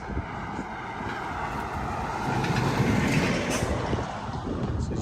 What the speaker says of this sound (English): and that's the train we came in